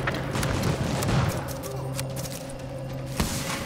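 Gunfire in The Division video game, a single muffled shot amid a steady low game hum and scattered thuds, with people talking over it.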